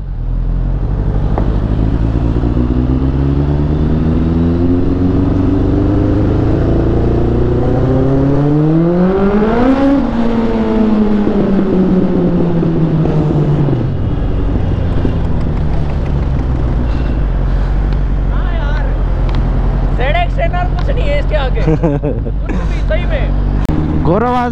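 A 1200cc motorcycle revs hard beneath a metro station, its engine note climbing in sweeping rises and falling away, then settling to a rough idle with sharp blips, while people talk loudly over it throughout.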